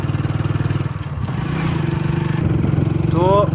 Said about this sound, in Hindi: तो अब हम बाइक में सवार हो गए हैं और आगे की ओर बढ़ रहे हैं।